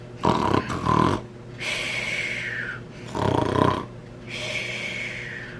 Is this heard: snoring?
yes